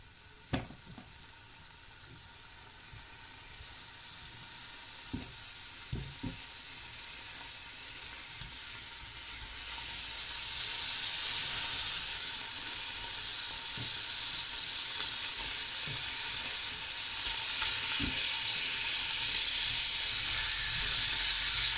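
Beef shank pieces sizzle and brown in a hot pan for a bourguignon, a steady close frying hiss that grows louder midway, with occasional sharp clicks and taps of a utensil.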